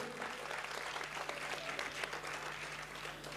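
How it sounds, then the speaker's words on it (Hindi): Steady, dense applause from an audience at a poetry recital, many hands clapping together at an even, moderate level throughout. "एक बार तालियों से आदेशित करिए।"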